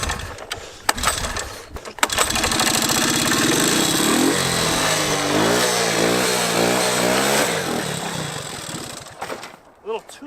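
Abandoned, long-unused three-wheeler engine revved hard and high, a loud buzzing wail with wavering pitch that rises and surges for several seconds before cutting off, with brief voices around it.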